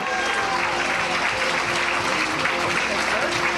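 A comedy club crowd applauds to welcome a stand-up comedian to the stage, a steady, full wash of clapping throughout, with some voices and crowd noise mixed in.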